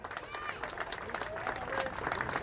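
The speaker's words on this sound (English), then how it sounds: "I want to give her a big round of applause." A crowd claps and cheers in a large room, steady applause with scattered whoops throughout.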